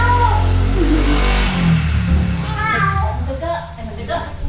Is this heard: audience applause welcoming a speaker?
no